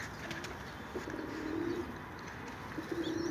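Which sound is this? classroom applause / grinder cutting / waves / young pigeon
young pigeon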